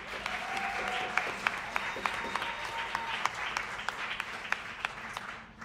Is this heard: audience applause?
yes